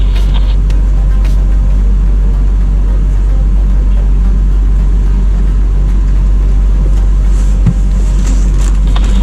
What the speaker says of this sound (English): I'm still driving towards you to find a spot to turn around